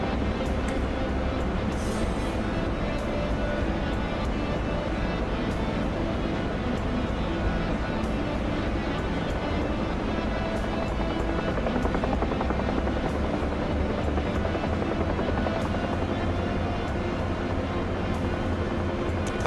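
Rotor chop from a video-game helicopter runs steadily through a skid-style landing, a dense continuous whir and thump, loud and unbroken with faint game noise.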